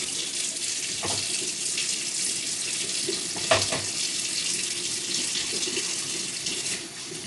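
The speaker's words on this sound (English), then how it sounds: "Let me just quickly wash my hand." Hands being washed under a running kitchen tap during meal prep, a steady close stream of water splashing into the sink with a brief louder splash midway.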